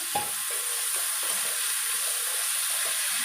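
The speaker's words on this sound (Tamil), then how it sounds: "வெங்காயத்தை போட்டு நல்லா வதக்கலாம்" Onions sizzling steadily in a hot pan, a constant bright frying hiss with occasional stirring scrapes, close and loud.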